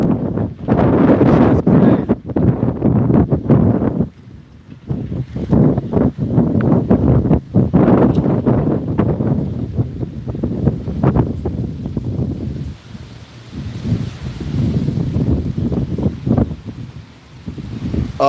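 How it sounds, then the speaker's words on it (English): Strong outdoor wind buffets the microphone in loud, gusty roars that swell and ease over and over, drowning out everything else. "It's starting to get windy out here"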